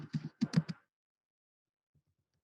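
Someone types a search on a computer keyboard in a short burst of quick, close key clicks lasting about a second. A few faint taps follow after a pause, and no one speaks.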